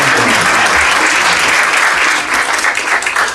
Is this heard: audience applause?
yes